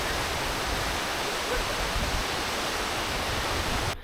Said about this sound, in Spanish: Más de 90 metros de altura, o sea que es una cascada altísima y la estoy viendo ahí